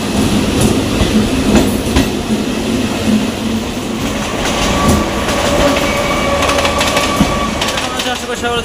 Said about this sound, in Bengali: তোমরা দেখছো পশ্চিমবাংলার ক্ষুদ্রতম লোকাল ট্রেন জার্নি।